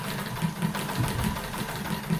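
A sewing machine quilting fabric runs with a continuous low motor hum and faint, regular stitching pulses, with no talking.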